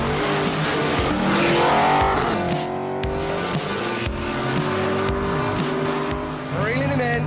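The world's fastest ute accelerates hard, its engine revving and shifting while tyres squeal through sliding pitch sweeps, loud and close, with a voice talking briefly over the noise.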